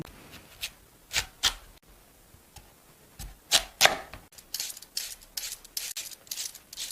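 A knife slices 1 kg of radish thinly on a board, giving a string of crisp, close cutting taps and scrapes, irregular at first and then quicker and more rhythmic toward the end.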